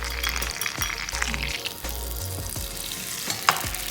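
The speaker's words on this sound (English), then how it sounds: "So the butter's melting nicely." Butter melting and sizzling in a pan for pancakes, a steady close fizzing sizzle with small crackles and pops, alongside soft clinks of utensils and no talk.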